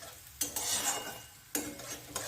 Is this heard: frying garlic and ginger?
yes